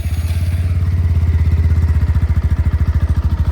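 A Bajaj Pulsar NS 125 motorcycle engine idles steadily nearby, its loud, even chugging pulse continuing without pause and with no talking over it.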